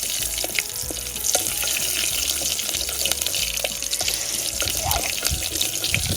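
Mustard seeds, cumin and curry leaves sizzle steadily in hot oil while misal is cooked in a home kitchen, with a continuous crackling hiss throughout and a few faint clinks.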